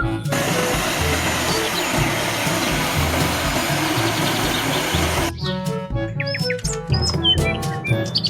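A firefighter turbine vehicle engine whines with a steady broadband roar for about five seconds, then cuts off, leaving quieter chirps and clicks.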